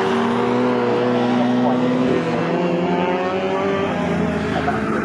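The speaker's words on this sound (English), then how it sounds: "We've got the historic touring cars, which are leading overall." Historic touring cars race at Snetterton, their engines roaring loud and continuous as several cars pass close together, with rising and falling engine notes layered over one another and a commentator talking over them.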